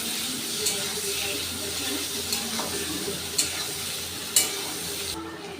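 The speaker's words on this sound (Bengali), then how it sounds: "এবার পেঁয়াজ আর রসুনগুলো খুব ভালো করে ভেজে নেব।" Chopped onions and garlic frying in a pan, a constant close sizzle broken by a few sharp clinks and scrapes of a spatula, with no voice over it.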